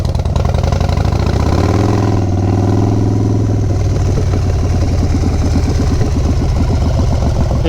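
Harley Davidson motorcycle engine at a water crossing, a loud close throbbing idle with a low steady rumble, rising briefly as the rider eases through, then settling back into a rapid pulsing beat.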